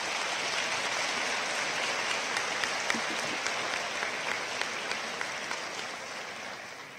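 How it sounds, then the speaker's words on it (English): Sustained applause from a college commencement audience honoring the faculty, a dense, steady wash of many hands clapping at even loudness throughout, with no speech over it. "So let's give our faculty one more round of applause."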